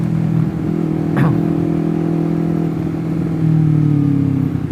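Motorcycle engine revving steadily through clutchless gear changes while riding in traffic, with a sustained low drone that briefly dips and climbs again as each gear is taken, close and loud throughout.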